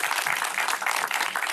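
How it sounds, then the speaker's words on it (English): Audience applause after thanks at a family event, a steady, dense clatter of many hands clapping nearby, sustained throughout with no speech. "And, applause."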